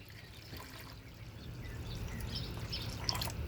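Muddy water from gold-prospecting paydirt pouring into a bucket, a steady soft splashing trickle that builds slightly, with faint bird calls in the background outdoors.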